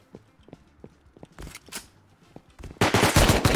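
Gunfire in the video game Rust: sparse single shots and footstep-like taps, then a loud, dense burst of rapid automatic fire in the final second, with no talking.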